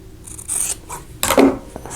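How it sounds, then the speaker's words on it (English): Scissors cut through quilt fabric for an apple pie quilt block in two or three quick, close snips with crisp rasping blade strokes and no talking. "I'm just going to use scissors because they're here."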